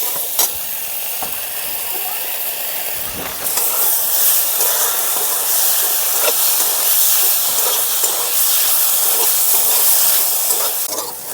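Potatoes frying in a pan with chili powder, cumin, coriander, turmeric, ginger and green chili paste give a steady close sizzle and hiss, louder after about three seconds, with occasional clicks of stirring and no talk.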